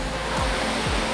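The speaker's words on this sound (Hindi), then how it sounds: "मैं अब रामना फॉल के पास में आ गया हूँ" Ramana waterfall near Ella, Sri Lanka, gives a brief, steady, close rush of falling water with no talk.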